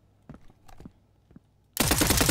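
Rapid automatic gunfire from a video game weapon bursts in loudly after a few quiet footstep-like taps, dense and sustained to the end, with no talk.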